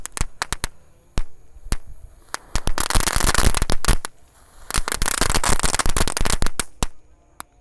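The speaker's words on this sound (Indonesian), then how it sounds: "Lanjut yang kita nyalakan di sini ada mercon pretekan guys" Pretek firecrackers known as telur dino, a whole pack lit at once at night, crackle in dense rapid bursts of sharp pops, with two long loud clusters and scattered single snaps before and between them.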